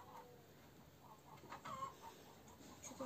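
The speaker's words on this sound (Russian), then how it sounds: "Курочки яйца несут." Chickens on a village farm cluck faintly in the background, a few soft, scattered clucks over a quiet, steady ambience.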